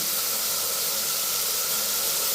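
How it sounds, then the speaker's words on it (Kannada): Vegetables for a vegetable pulao fry in a hot pan with a steady, dense sizzle and hiss that holds evenly throughout, close and fairly loud, with no talking. "ಚೆನ್ನಾಗಿ ಒಂದು 5 ನಿಮಿಷ ಫ್ರೈ ಆಗಲಿ"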